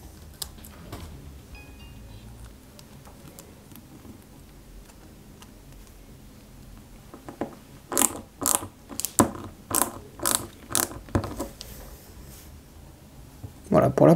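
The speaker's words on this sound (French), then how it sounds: "on va y mettre deux vis à M de chaque côté" Tiny screws are driven by hand into a Peugeot 205 GTI 1.9 scale model from Ixo Collections. Faint ticking gives way to a burst of sharp, ratchet-like clicks in quick succession, close up, with a voice speaking at times.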